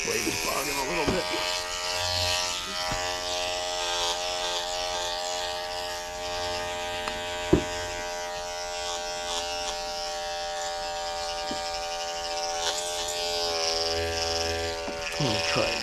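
Electric dog grooming clipper on a knotted Schnauzer, blade bogging slightly, gives a steady close buzzing hum with a few brief clicks, running continuously throughout.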